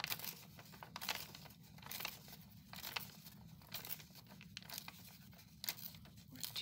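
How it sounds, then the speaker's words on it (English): Paper is torn and crinkled out of a planner during a crafting session, with faint, close rustles and rips that come in irregular bursts over several seconds, no talking. "We'll tear this out."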